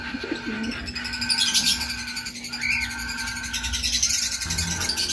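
Soft coos of breeding pigeons repeat among chirping birds, with a steady outdoor hum underneath.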